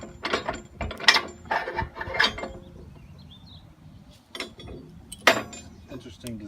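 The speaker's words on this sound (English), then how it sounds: "let's pull this pin out and tighten these bolts up" Pin pulled and bolts tightened on a Titan fronthoe attachment: close metallic ratcheting and clanking bursts in two clusters, with quiet pauses between.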